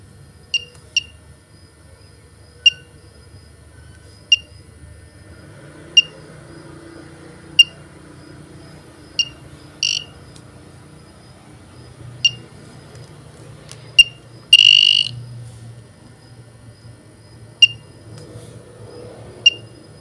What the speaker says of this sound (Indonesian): Ini seperti alarm token listrik